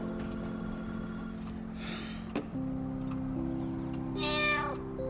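A cat meows twice, close and clear, with a steady electrical hum and tonal background underneath.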